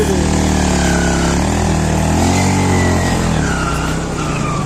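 A motorcycle engine revs loudly and close on a muddy off-road ride on a rainy day, its throttle rising and falling in a continuous droning roar.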